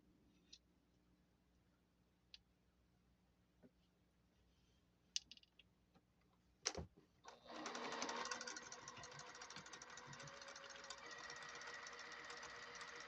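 After scattered faint clicks and a sharp knock, a sewing machine starts up and runs steadily with a fast mechanical whir, stitching half square triangles for a quilt top.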